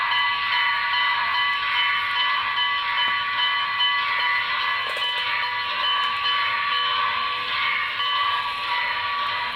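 Bell of a Broadway Limited Reading T1 2100 model steam locomotive, a steady ringing electronic tone held continuously for about ten seconds at an even, fairly loud level, with no voices over it.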